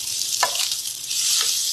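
Onions frying in a pan for pork bone adobo, a bright, close, continuous sizzle with a couple of soft stirring scrapes.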